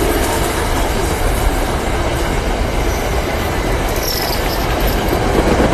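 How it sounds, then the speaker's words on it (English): A train rolls past nearby during a high school sports broadcast, a loud steady rumble of wheels on rails holding constant throughout, with faint high squeals over it. "I got a train coming by here."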